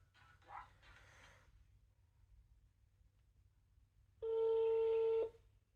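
A mobile phone call being placed: after a faint murmur and a long hush, a single steady electronic call tone sounds clearly for about a second, then cuts off.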